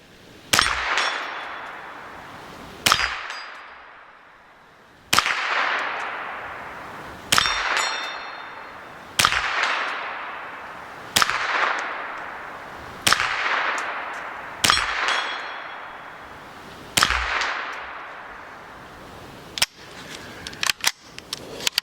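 A Ruger 10/22 rifle fires about ten spaced shots, each striking a small metal spinner target with a sharp crack and a ringing metallic clang that fades before the next, ending with a few quicker, lighter hits.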